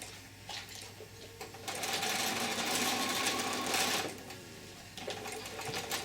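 A sewing machine stitches a small adult-size fabric face mask, its steady rapid whirring growing louder mid-run before easing back, then continuing in short bursts.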